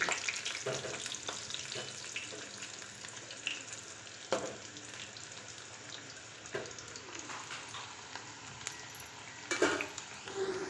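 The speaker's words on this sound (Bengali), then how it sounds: "এই দেখো পুরো বিরিয়ানির আলু আমি ভাজা শুরু করে দিয়েছি।" Potato pieces for mutton biryani frying in a home kitchen, a steady low sizzle with occasional louder clatters and scrapes, no talking.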